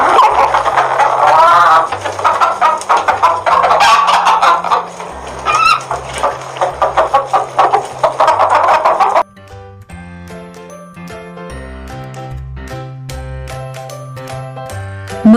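Cartoon roosters and hens cluck loudly and excitedly as they attack, over a bouncy jingling music track that carries on alone after the clucking stops partway through.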